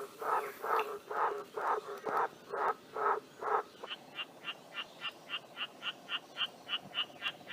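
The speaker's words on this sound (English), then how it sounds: "Green tree frogs." Green tree frogs call in a native Queensland summer setting, first with a run of about eight loud, broad, evenly spaced croaking pulses, then a faster string of shorter, higher repeated notes over a steady chorus of background calls.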